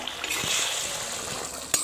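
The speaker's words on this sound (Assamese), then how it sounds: "মাংসটোৱে উতলিছে" Pork pieces in water simmering under a lidded pot for an Assamese-style pork gravy give a steady close bubbling hiss with a few soft pops and a brief sharp knock near the end, no voices.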